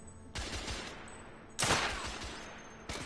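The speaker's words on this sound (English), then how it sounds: "What I have is a pistol." Pistol gunfire in the video game The Order 1886, with three loud, close shots spaced about a second and a half apart, each followed by a short decaying tail.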